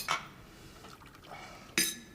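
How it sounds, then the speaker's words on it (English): Coffee is poured into a cup at home, a faint, quiet trickle framed by two light clinks of crockery, one at the start and a sharper one near the end. "Shall I pour you a cup of coffee?"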